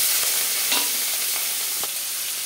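Prawns, large ones halved, frying with a little turmeric in hot mustard oil in a heated kadai: a loud, dense sizzle with a few sharp stirring clinks spaced across the moment, no speech.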